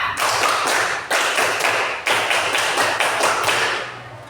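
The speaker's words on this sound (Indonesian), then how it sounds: "Tepuk pramuka." Classroom pupils perform the 'tepuk pramuka' scout clapping pattern, with loud, close group claps in a quick repeating rhythm and brief pauses between sets.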